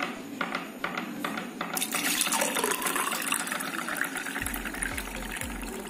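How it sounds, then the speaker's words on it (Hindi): Jaggery water is poured into a mixture in a home kitchen for a Bengali dish, a steady liquid splash running through the whole stretch with a few clinks and knocks near the start and faint thuds toward the end. "So now I am going to mix the jaggery water to it."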